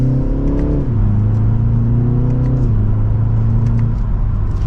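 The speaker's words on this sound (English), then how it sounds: "very smooth, very quick for that mild acceleration" A 2024 BMW 330i xDrive M Sport accelerating from second gear in sport mode, a smooth, steady engine hum rising in pitch with two brief dips as it shifts, heard from inside the car.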